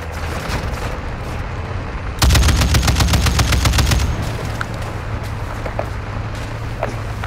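Turret machine gun fire in the Modern Warfare 2 DMZ video game, a loud rapid burst of about two seconds standing out from ongoing battle noise, followed by scattered fainter shots.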